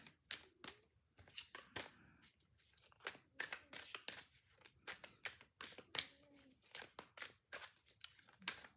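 Tarot cards are shuffled by hand in a quiet room, crisp riffling and slapping sounds repeating in an irregular rhythm at close range, soft overall.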